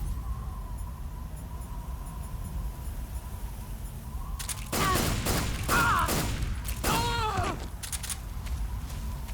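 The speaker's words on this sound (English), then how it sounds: "Try the pistol and the shotgun." Pistol and shotgun shots in Metal Gear Solid 3, a cluster of sharp loud bangs in quick succession over a steady ambient game background, with echoing tails between shots.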